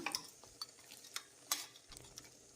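Goat head and leg meat being mixed with turmeric and salt in a cooking vessel: soft, scattered scraping and clinking taps at an irregular rhythm, quiet and close, with no talking.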